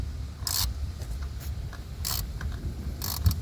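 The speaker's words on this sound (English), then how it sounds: "So I'm using a 3/8 stubby ratchet with an extension." A 3/8 stubby ratchet on an extension spins a 13mm socket on a nut near a 2016 Camaro SS starter, giving a few short, bright metallic ratcheting bursts over a steady low background hum.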